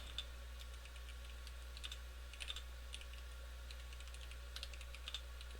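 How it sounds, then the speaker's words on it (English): Typing on a computer keyboard during a livestream, heard as faint, scattered clicks and short bursts of keystrokes over a steady electrical hum, with no talking. "So typing stream, a stream where I practice my typing."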